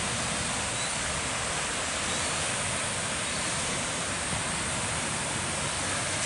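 Water pours steadily from a sewage drain outflow near a west coast beach, a loud, unbroken rushing roar with no voices over it.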